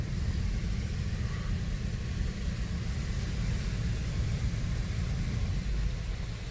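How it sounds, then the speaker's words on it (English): Belanger Vector automatic car wash during its high pressure rinse, a steady loud broadband rush of spraying water and machinery rumble that holds evenly throughout with no speech. "So now the high pressure rinse is on the other side."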